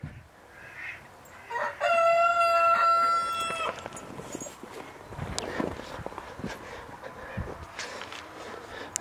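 A homestead rooster crows once, loud and clear, with chickens around him; soft clucks and scratchy footsteps follow.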